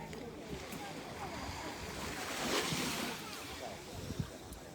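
Calm, clean sea off the Sicilian coast on a morning, with a steady soft wash of gentle waves and light wind, swelling slightly near the middle and then easing back.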